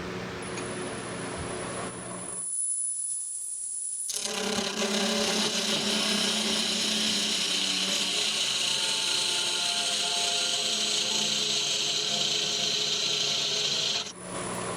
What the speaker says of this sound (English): Get my trusty parting tool.